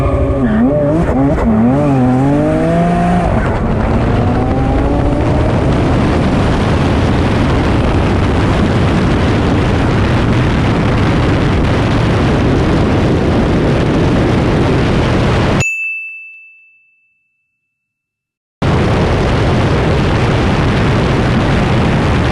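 A Porsche 911 Turbo races a twin-turbo Dodge Viper on its stock motor in a high-speed run. Loud engine roar and rising turbo whine fill the first stretch, then a sustained rushing drone. The sound cuts to silence briefly and resumes.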